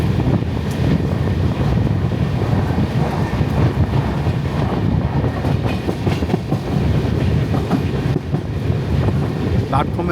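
The 22642 Shalimar Trivandrum Express pulls into Kunkunam station, a steady, loud rumble of rolling carriages with rail clatter and wind buffeting, continuous throughout without pause.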